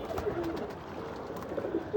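Pigeons in a home loft, including Bagha birds, coo softly and repeatedly at close range over a low, steady background hum.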